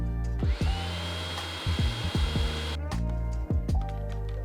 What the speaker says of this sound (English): Blend it until well combined.